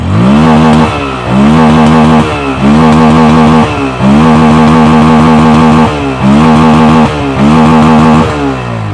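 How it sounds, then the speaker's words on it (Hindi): Bajaj Pulsar N160 motorcycle with an underbelly exhaust idling up close, a loud steady engine thrum broken by a few brief dips and surges in a repeating rhythm, with no voices. "सबसे पहले N160 आइडियल कंडीशन पर साउंड सुनिए।"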